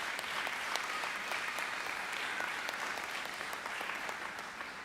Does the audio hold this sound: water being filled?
no